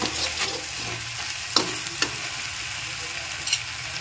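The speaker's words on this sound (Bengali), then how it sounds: "এখন একটু নেড়ে চেড়ে নিলাম, মশলাটাকে একটু কষাবো আমি।" Ground spice masala for a rohu fish curry stirred and fried in a pan, a steady sizzle with a few sharp scrapes of the spoon against the metal, close and alone.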